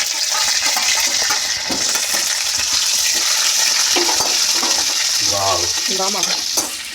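Dried red chillies and curry leaves frying in hot oil, a loud, dense sizzle that runs continuously while a spoon stirs and scrapes through the pan with intermittent clatters.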